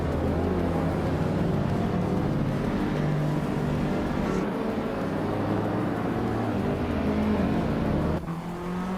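Race cars in a video game roar on the Nashville Superspeedway infield, including a 2010 Volkswagen Golf GTI hatchback among AI rivals; a steady, loud engine drone continues throughout and dips briefly near the end.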